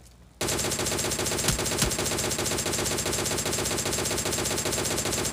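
Rapid automatic gunfire from the battle royale game Free Fire rattles continuously at loud, close range, sustained bursts with a couple of sharper shot peaks partway through, no talking over it.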